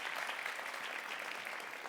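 Steady audience applause at a political candidate event, a dense even wash of many hands clapping at moderate level throughout, with no speech over it.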